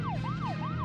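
A police car siren in the Deadly Premonition video game wails in a steady rising-and-falling cycle, loud and close, over a constant low engine hum.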